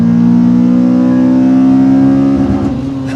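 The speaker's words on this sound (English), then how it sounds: "I can rev this car all the way to the red line like that" A Honda Accord Type S with a naturally aspirated K24 engine holds a loud, steady high-rev drone near 8300 rpm, bouncing off the limiter, then the pitch wavers and begins to drop near the end.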